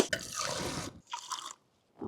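Water tipped from a container into a cement mortar mix for bricklaying, heard up close as two splashing, pouring bursts, a long one then a shorter one, followed by a brief silence.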